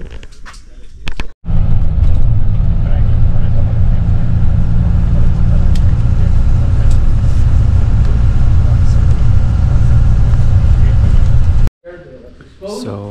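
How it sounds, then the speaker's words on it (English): Steady bus engine rumble and road noise on the roughly 1.5-hour ride from Flores to Tikal in Guatemala, loud and continuous with brief breaks at the start and end. "I'm about to take the bus to Tikal."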